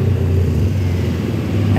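Cars in a long traffic jam by a flyover make a steady low rumble of idling and slowly moving engines, moderately loud and continuous.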